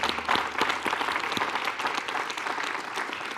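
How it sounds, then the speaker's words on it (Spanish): A church congregation claps together after a prayer, a dense, lively round of applause with sharp individual hand claps standing out, sustained and fairly close with no talking over it. "Dale un aplauso."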